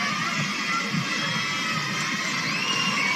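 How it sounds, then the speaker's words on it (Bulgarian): A large arena crowd at a rhythmic gymnastics World Cup final in Sofia cheers and shouts continuously, a loud, dense roar of many voices with no pauses. "Публиката е на крака."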